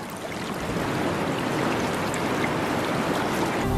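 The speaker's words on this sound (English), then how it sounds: "Rainwater, which collects in deep pools, is channeled along furrows in the rock surface" Rainwater rushes steadily along furrows in the rock of a Venezuelan tepui plateau, a dense, close, continuous wash of flowing water with no voices.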